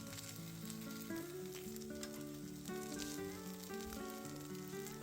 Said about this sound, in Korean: 노릇노릇 잘 구워지고 있죠?